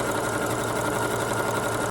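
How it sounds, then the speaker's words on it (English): A sewing machine runs a zigzag stitch along fabric edges, giving a steady, fast mechanical whirr with a rapid needle rhythm, close and fairly quiet, with no voices. "I'm gonna zigzag over all of the edges so that they're all nice and finished"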